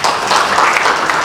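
A short, lively round of clapping from an audience at a campus ceremony in Saumlaki, with dense, irregular hand claps rising and falling over little more than a second.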